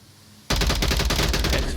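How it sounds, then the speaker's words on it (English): Sustained automatic machine gun fire in the VR shooter Onward during a competitive match, bursting in abruptly after a quiet moment and continuing as a loud, dense, rapid rattle of shots. "Actually, a bit of machine gun fire."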